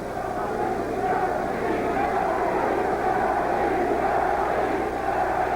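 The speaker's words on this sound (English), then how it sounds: "The crowd chanting, Bernie, Bernie, and Earnie, Earnie, which is the overriding chant." A dense boxing arena crowd roars and chants steadily at a heavyweight bout, a continuous broad wall of massed voices with a rhythmic chanting pulse, while a commentator's voice talks over the top.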